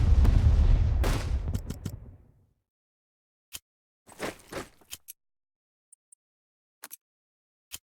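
Battleship bombardment in a strategy war game: a loud, heavy blast rumbles at the start and decays over about two seconds, followed by scattered sharp impact cracks and a brief burst of debris-like crackle, with short clicks between.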